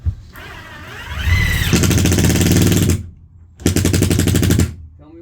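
An impact driver drives a screw through a water-damaged floor in a 34-foot Rockwood RV. The motor whirs up, then two loud hammering bursts follow with a short pause between them, close by.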